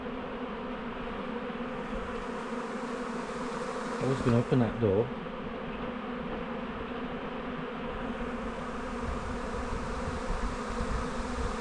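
A honeybee swarm pours into a nucleus hive box, taking over a weak colony. It makes a dense, steady buzz of many bees close by throughout, with a brief remark from a person partway through.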